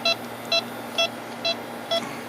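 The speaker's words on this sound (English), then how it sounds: "if the beeps get real loud, you know you've got a leak" Electronic freon leak detector on air conditioning caps giving five short, evenly spaced electronic beeps about half a second apart, clear and close over a low steady hum.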